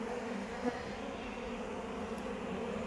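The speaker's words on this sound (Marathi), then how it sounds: "राणी माशी आतमध्ये नसल्यामुळे हे बघा कसे चलबिचल करतायत, स्थिर नाही वासात" Agitated honeybees swarm restlessly around a wooden hive box in a farm field after their queen is missing, a steady dense buzzing hum close by with no talk.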